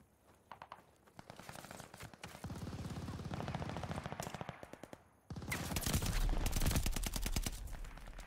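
Rapid automatic gunfire in Call of Duty Vanguard multiplayer, a long dense burst of machine-gun shots that drops briefly, then resumes louder and sustained, close and heavy.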